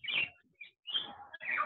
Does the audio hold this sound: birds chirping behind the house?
yes